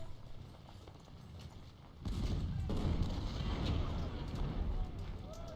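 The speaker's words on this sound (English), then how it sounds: "we're already firing at the Iron Brigade" Faint musket volleys and artillery thud and crackle across a Battle of Antietam fight in Ultimate General: Civil War, swelling into a dense, continuous barrage after a quieter start, under a player's talk.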